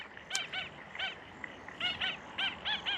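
Repeated goose-like honking calls from a bird near water, in loud bursts of several notes spaced irregularly, standing out over a steady outdoor background hiss.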